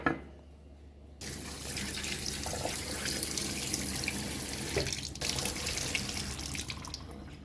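Tap water runs steadily into a sink while scotch bonnet peppers and scallions are rinsed for Jamaican pepper pot soup, a continuous close splashing rush after a brief quiet start, with a short dip in the flow near the end.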